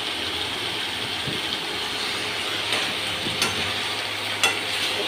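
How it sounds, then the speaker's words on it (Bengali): Tomatoes with spices being stirred and fried in a pan, a steady broad sizzle with a few soft clinks and scrapes of stirring, continuous and close, no voices. "টমেটো দিয়ে বেশ কিছুক্ষণ ধরে আরও নাড়াচাড়া করে নিচ্ছে"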